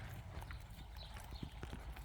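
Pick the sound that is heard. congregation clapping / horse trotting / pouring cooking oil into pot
horse trotting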